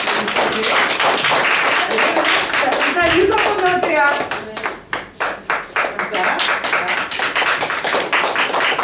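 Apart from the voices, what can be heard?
theatre audience applause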